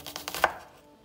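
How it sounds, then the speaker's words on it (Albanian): A few quick knife chops through a pepper on a cutting board, ending with one sharper cut, close and fairly quiet. "Tani do të bëjmë prerjen e specit."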